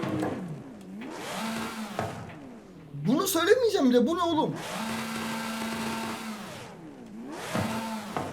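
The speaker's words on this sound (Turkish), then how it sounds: "şu motor seslerini bir daha bir dinleyeceğim" A Mercedes car engine in the video game Forza Horizon 5 revs up and down in repeated surges, loud and high-pitched, with someone talking over the middle stretch.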